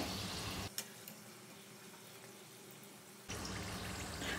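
Mutton kheema samosas deep-frying in hot oil at medium heat, a soft steady sizzle that drops quieter for a few seconds before the bubbling swells back up, with no talking.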